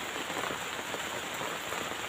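Steady rain falls on surfaces outdoors, a dense, even hiss of drops that continues unbroken and fairly soft throughout.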